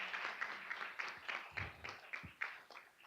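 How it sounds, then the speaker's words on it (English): At an alumni forum panel on personal branding, a small audience claps briefly; the scattered hand claps sound faint and somewhat distant, thinning out toward the end. "Round of applause."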